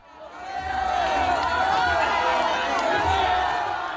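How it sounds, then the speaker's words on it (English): A crowd cheers Matteo Salvini at a League party rally, a swelling roar of many voices that stays loud and steady, with shouts rising out of the mass. "Matteo Salvini greeted by cheering crowds at a rally for his League party"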